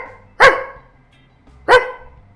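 A dog gives two sharp, loud barks about a second apart, close and clear with quiet in between.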